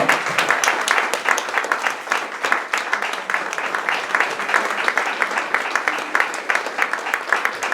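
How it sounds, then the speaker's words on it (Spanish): A crowd at a poetry reading gives sustained, loud applause, a dense continuous rattle of many clapping hands lasting nearly eight seconds. "Es un fuerte aplauso"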